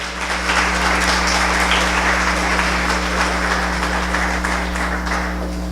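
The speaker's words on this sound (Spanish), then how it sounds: "les damos un fuerte aplauso de bienvenida a todos ustedes" Sustained applause from a church congregation, a steady wash of clapping held at even loudness throughout, over a low constant hum.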